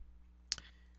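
A single quiet computer mouse click, a brief sharp tick against faint steady background hum.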